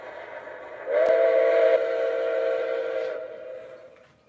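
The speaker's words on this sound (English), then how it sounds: "You gotta love what MTH did on this whistle." MTH model train steam whistle blowing one long sustained chord-like tone, loud and close, fading out after about two seconds.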